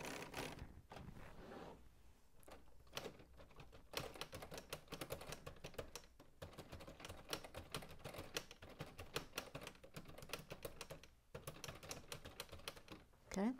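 Rapid, irregular mechanical clicking from a built LEGO 21327 Typewriter model with its keys pressed in quick bursts, close and fairly loud, pausing briefly between runs.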